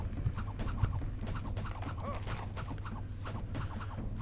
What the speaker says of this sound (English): Oh, no, that horse escaped almost.